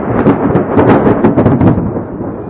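A crash of thunder in a radio play: a loud, rolling rumble that swells in several heavy bursts and fades over about two and a half seconds, with no voices.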